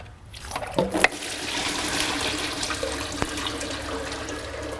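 Fluid gushing and splashing from an old transmission being removed on a Ford Fairmont onto a garage floor, a steady close liquid pour with a few sharp splash spikes early on.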